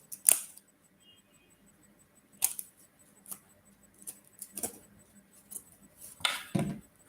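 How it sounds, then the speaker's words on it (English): Scissors snip through fabric while making fascinators, a few sharp, close cuts spaced out with quiet gaps between them. "To open, just put your scissors in there"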